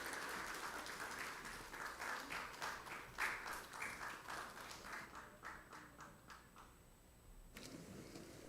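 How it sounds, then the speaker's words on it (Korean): Church congregation at a Sunday afternoon multicultural service clapping in steady applause of encouragement, a dense patter of many hands that carries on evenly and then tapers off. "이 시간 우리 이분들에게 격려의 박수 한번 힘차게 해주세요."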